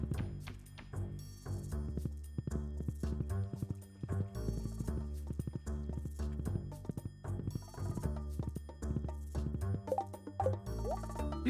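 In the video game Stardew Valley, a horse's hooves clip-clop in a steady, rhythmic trot throughout, mixed with the game's music and small effects.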